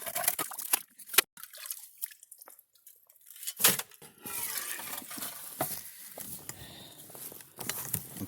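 Water and gold-bearing muck tip into a gold classifier on a mountainside dig, giving sporadic splashes, drips and gritty patter in bursts with quieter gaps between them.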